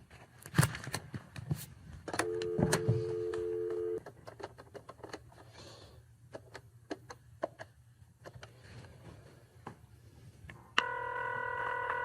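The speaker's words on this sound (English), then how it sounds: "Dial the number. 555-6914." A telephone number dialed by keypad, giving a quick series of short, clear DTMF beeps with steady tone bursts among clicks, fairly close and with no talk over it.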